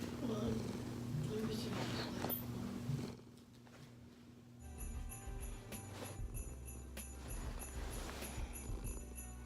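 A pet cat purring in a home on Christmas Eve, the low rumbling purr close and steady, with faint rustling and handling noise around it.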